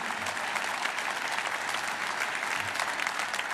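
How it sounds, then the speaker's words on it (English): Audience applause during a political speech at the American Israel Public Affairs Committee conference, steady dense clapping sustained throughout, moderately loud with no talk over it. "Well, you can clap."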